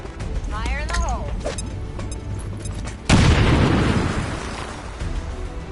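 A grenade blast in the video game XCOM 2: a sudden heavy boom cuts in partway through and decays into rumbling debris, coming after game sounds and a short warbling tone, with voices speaking around it.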